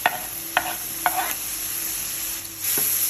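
Squid stir-fried with long beans, chili and kaffir lime leaves in a hot pan, a steady sizzle broken by three or four sharp spatula scrapes, close and loud, with the frying swelling near the end.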